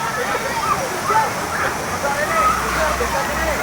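Water rushes at the Jumog waterfall tourist site, a steady broadband roar heard from some distance while people talk and move over it.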